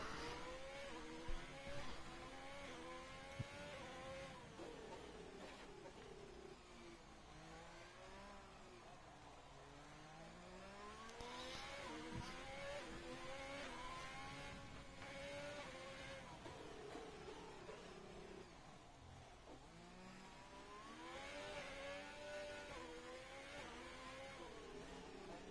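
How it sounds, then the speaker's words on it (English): Formula 2 race car engine in a racing video game, revving high in second gear out of a hairpin on the Azerbaijan street circuit, a continuous buzzing whine rising and falling in pitch throughout, steady and fairly loud. "A lot of revs there after the that hairpin up in 2nd gear."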